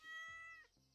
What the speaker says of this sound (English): I need to pet you, kitty.